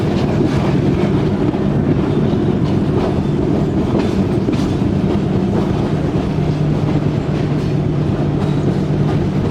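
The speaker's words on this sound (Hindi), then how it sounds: "तो 8:50 पर ट्रेन हमारी पहुंच चुकी है संजानी रेलवे स्टेशन पर" A passenger train pulls into Sanjani railway station among hills, a continuous close rumble with rhythmic clickety-clack of wheels over the rails.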